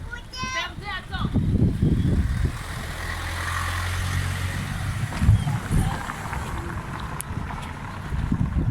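Cars pass along a road in turn, a rushing whoosh swelling and fading with wind buffeting the microphone, while people talk throughout.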